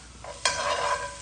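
Shrimp and plenty of garlic sauté in a pan. A soft stir comes first, then the sizzle jumps suddenly and stays loud and steady.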